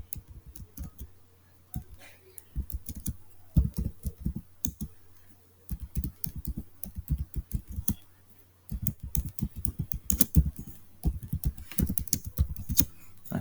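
Fingers type on a computer keyboard at a desk, giving quiet, close, irregular key clicks in rapid clusters with brief pauses between them, alone and without talking.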